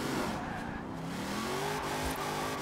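A Hot Wheels Mustang in Forza Horizon 4 with its rear wheels spinning, a loud, steady engine roar with rising pitch and tire squeal, close and continuous, with a voice faintly underneath.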